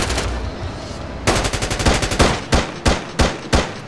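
Gunfire from the SOCOM U.S. Navy SEALs Combined Assault: Reprisal video game: a rapid automatic burst, a brief pause, then a long rattling volley breaking into several loud separate shots, close and sharp.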